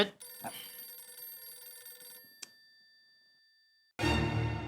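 Landline telephone on redial ringing in a Mumbai housing society office, a steady electronic ring tone with harmonic tones lasting about two seconds, then a short click and a pause before a loud burst of broadband noise cuts in.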